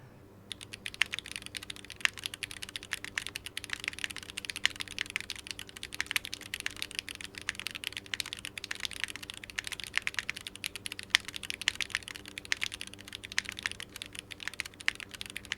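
Steady, fast typing on an Athena 1800 keyboard built with no foam, HMX Sanja switches, a carbon fiber plate and GMK Hootie keycaps, with dense close keystrokes running the whole time and no talking.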